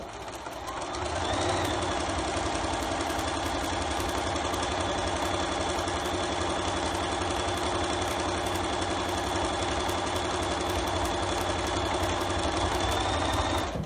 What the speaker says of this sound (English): we're going to set the machine down and we're going to sew